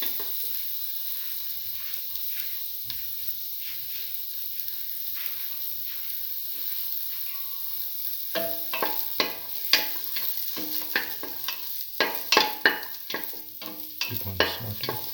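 Shallots sauteing in a small amount of oil with salt, a quiet sizzle at first, then a spatula repeatedly scraping and stirring the pan in uneven strokes, close and without speech.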